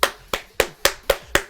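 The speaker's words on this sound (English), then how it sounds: "I keep fucking clapping just to get me going." Six sharp hand claps at a steady, fairly quick rhythm, close and loud, from a gamer clapping alone to psych himself up during a livestream.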